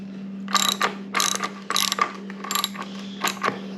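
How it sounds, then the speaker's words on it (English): A 3/4 socket ratchet loosening a bolt on a Harley Sportster Iron 883 fairing mount, several close, bright bursts of rapid clicking with short pauses in between over a steady low hum. "And then a 3/4 socket. All right, so 3/4 socket. It'll fit on there. Okay. Loosen that up."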